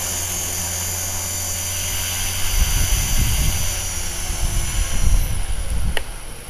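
HK-450 RC helicopter landing in wind, a constant high rotor and motor whine with gusty low rumbling wind buffeting growing louder toward the end.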